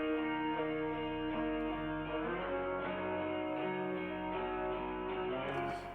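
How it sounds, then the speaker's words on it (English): Guitar melody pitched up and played at halftime, drenched in heavy reverb, a dense sustained wash of ringing notes with a low bass layer underneath, steady and without voices. "So the first thing I started with is the guitar."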